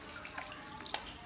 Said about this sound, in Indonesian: Kita nyalakan keran, basuh tangan dengan air